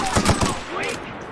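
Quick burst of three or four sharp gunshots from a weapon in the sci-fi video game The Outer Worlds, close and loud, followed by a fading synthetic ringing tail.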